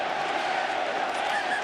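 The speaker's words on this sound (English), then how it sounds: "And the crowd here tonight, just listen to them." A packed stadium crowd roars continuously at a rugby league World Club Challenge match between Wigan Warriors and Penrith Panthers, a dense, loud, unbroken wall of cheering.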